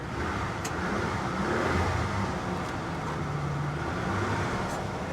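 A used pickup truck offered at a Copart auction idles steadily, a continuous low engine drone heard close from inside the cab, with no voices.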